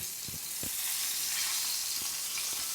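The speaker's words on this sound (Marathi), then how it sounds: "आता आपण दुसऱ्या बाजूने व्यवस्थित परतून घेऊया" Pomfret coated in rava sizzles steadily in a hot pan as the fish fries on its second side, a continuous bright crackle with a few soft low knocks of the pan, no voices.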